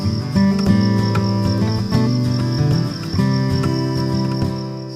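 A steady, high-pitched cricket trill runs throughout, fairly loud, with low tonal sounds layered underneath.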